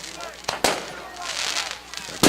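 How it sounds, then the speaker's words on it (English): Fireworks bursting over the west end zone at a high school football game, a few sharp loud pops and cracks spaced apart over a steady crowd and ambient hum, with people talking in the background. "we've got fireworks here in the west end zone"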